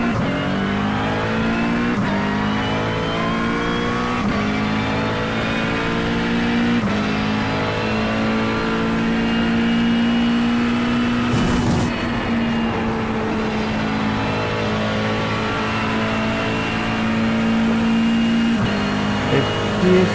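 A McLaren race car engine in the iRacing sim holds a loud, steady high-revving drone, with gear changes and a brief burst of other cars near the middle, continuous throughout.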